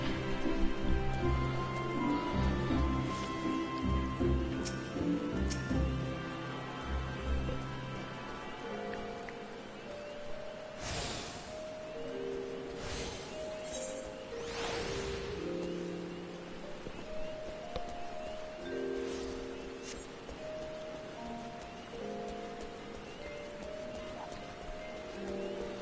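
Steady rain pours through a Final Fantasy XIV game scene in A Realm Reborn, a dense hiss of drops with a few louder bursts and soft musical tones layered beneath.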